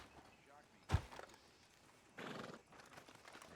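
A horse in Red Dead Redemption 2 gives one loud, sharp neigh close by, followed by a shorter snort or whinny a moment later over a low ambient background.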